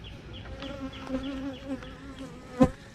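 Honey bees buzz in a low, continuous hum, with occasional individual bees droning nearer, and one brief loud pass close by.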